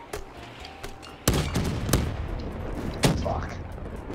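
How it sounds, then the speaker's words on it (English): Gunfire in an online shooter game, a few sharp shots at irregular intervals over a steady background, with a player's voice faintly present. "Dude, I got shot from behind, Ninja."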